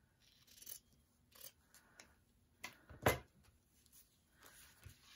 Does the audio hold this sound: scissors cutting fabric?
yes